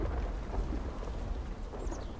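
Steady rain and low rumbling thunder fill the Rainy Cleft area of the video game Myst Online: Uru Live, a dense continuous wash with no voices.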